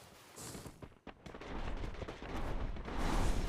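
Rapid bursts of gunfire and booming blasts from a team-based video game battle, dense and continuous, building louder toward the end.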